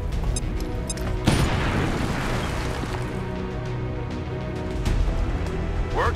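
Grenade explosion in the XCOM 2 video game, a sudden loud boom followed by a dense rumbling roar that stays heavy and continuous amid ongoing game noise.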